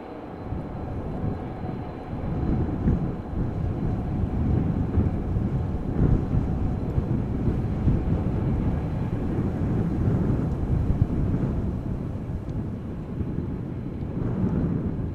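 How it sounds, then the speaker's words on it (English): Airliner thrust reversers roaring after landing at Amsterdam Schiphol Airport, following rain: a steady, loud broadband rumble lasting throughout, with gusty wind buffeting the microphone and no talk. "Right, now the reversers have wound down."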